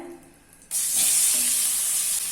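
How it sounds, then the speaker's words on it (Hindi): Paneer pieces hit a hot pan of spice masala and set off a sudden loud, steady sizzle that keeps going after a brief quieter moment of stirring beforehand. "अभी इसमें पनीर के पीसेस ऐड कर लेना है"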